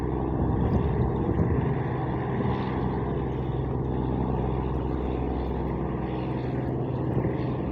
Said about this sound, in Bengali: দ্রুতগামী লঞ্চ হচ্ছে এটা গ্রিন লাইন